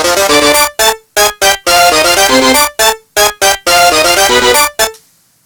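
Bright synthesized string chords from music software play part of a track from Undertale in short rhythmic stabs and sustained bursts, separated by sharp silences, loud and close, ending in a brief fade.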